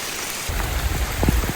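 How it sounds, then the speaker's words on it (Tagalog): Heavy rain pours steadily during a hike to Lake Holon in South Cotabato, Philippines, a dense close hiss of drops pattering on surfaces. "And the hike has started. So much rain."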